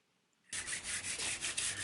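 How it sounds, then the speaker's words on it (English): 800 grit nail file rubbed over model railroad track, abrupt onset after half a second of quiet, then close rhythmic scraping strokes in a steady back-and-forth pattern. "This is the one and only time that I use any abrasive on the track. This is an 800 grit nail file."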